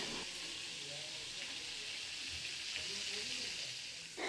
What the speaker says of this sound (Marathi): आपण जेव्हा मच्छी आहे ना तेलामध्ये सोडतो ना, तेव्हा तो फास्ट गॅस करायचा